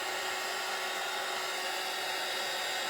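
Hair dryer blowing to dry wax on a rustic patriotic craft piece, a steady close-up whirring roar with a constant airy hiss, unchanging throughout.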